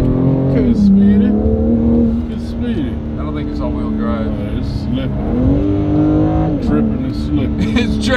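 Engine of a BMW M3 Competition droning steadily as the car drives with its tires slipping, pitch rising and falling with throttle, with people talking inside the cabin throughout.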